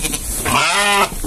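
A newborn lamb bleats once in a single drawn-out, wavering cry, close and loud, with faint farmyard rustling before and after.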